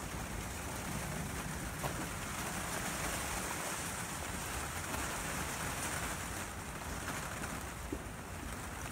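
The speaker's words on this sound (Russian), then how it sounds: "Ливень идет нон-стопом." Heavy rain pours nonstop onto a greenhouse roof, a dense, even hiss and patter that holds steady the whole time, with no voices.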